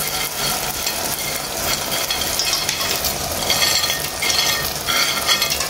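Bombil fish hitting a pan of frying onions and tomatoes, a steady close sizzle with stirring and a few utensil clinks running the whole time.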